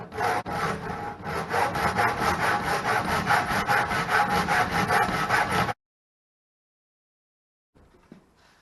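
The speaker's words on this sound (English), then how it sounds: "so I use a hand saw" Old hand saw cutting through wood in fast, even back-and-forth strokes, rasping and close, then the sawing stops abruptly and silence follows with a faint knock.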